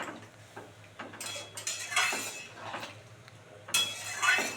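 Metal clinks and clatters of a lid set onto a cooking pot while a prawn and taro curry simmers, a few sharp knocks spread over a few seconds at close range, with no talk.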